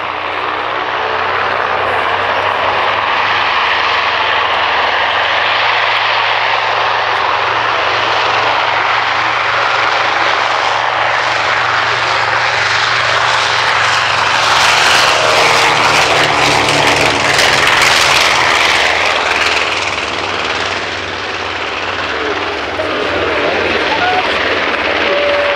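A vintage B-25 propeller bomber flies past at the Shoreham Airshow, its loud, steady engine drone swelling as it draws nearer and fading slightly afterward, with a commentator's voice heard over it.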